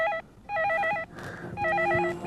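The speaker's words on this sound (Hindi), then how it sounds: "मम्मी फोन आ रहा है।" A telephone rings at home in repeated electronic double-trill bursts, moderately loud and close, with a short gap of rustling in between and no speech.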